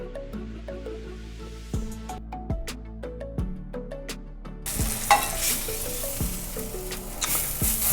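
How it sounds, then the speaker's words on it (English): Peppercorn-crusted steak au poivre fries in a pan as butter is spooned over it. Background music plays throughout, and a loud, steady sizzle swells in the second half with scattered spoon clinks. "I'm gonna baste the steak with a little butter."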